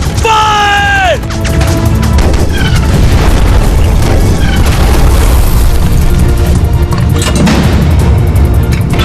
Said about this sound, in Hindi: दुश्मन का टैंक फायर!